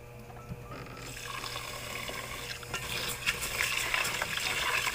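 Tap water runs steadily into a sink as rice is washed for a home-cooked lunch in a rural kitchen, the flow growing louder and more splashy toward the end, close by with no talking.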